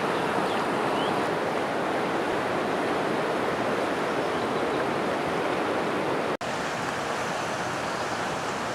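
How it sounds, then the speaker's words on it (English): The Poudre River near Prospect and Timberline Road, running high and fast, gives off a dense, steady rushing roar of water, broadband and unbroken apart from a momentary dropout. "the river is rising"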